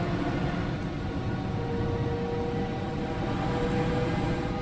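Class 710 London Overground electric train in Train Sim World 5, a steady low rumble and hum of the running train with faint high whine, constant and close, no voices.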